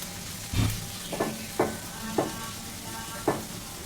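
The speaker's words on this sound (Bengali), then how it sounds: "জালটা একটু বাড়িয়ে দিয়ে নাড়াচাড়া করব।" Green chillies and salt sizzle in a pan over raised heat, with steady hiss and about five distinct stirring scrapes and knocks spaced through the clip, close and moderately loud.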